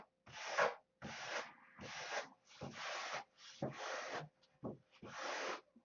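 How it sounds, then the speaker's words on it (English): Coarse 30 grit sandpaper rubbed against wood while shaping a piece, a series of about eight harsh rasping strokes in an uneven back-and-forth rhythm, close and clear with short pauses between passes. "30 grit sandpaper, one side's done."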